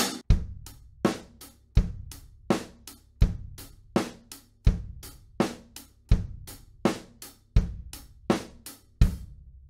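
A drum kit plays a steady groove where the hi-hat strokes between the beats ring out louder, giving an off-beat lilt over kick and snare.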